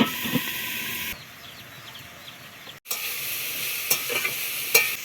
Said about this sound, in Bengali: লবণ, হলুদ নাড়াচাড়া করে নেব।